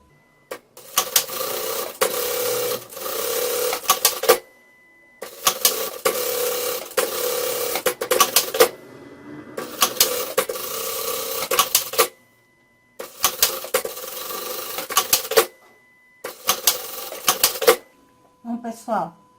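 A sewing machine stitches a bucket bag in four or five loud, close bursts of rapid mechanical clatter, each a few seconds long and split by short pauses, with a voice speaking briefly in the gaps.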